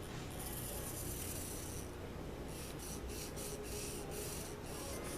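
Chalk rubs and scratches across fabric on a large padded ironing board, a soft, dry rasping in short close strokes with a brief pause partway through.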